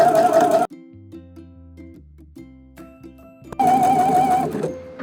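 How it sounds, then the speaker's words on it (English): A sewing machine runs long basting stitches through fabric, humming loud and steady, then dropping to a quiet patch of low mechanical tones before revving up again for a second run. "Remember to line up the edge of your foot with the edge of your fabric for the first row of basting stitches"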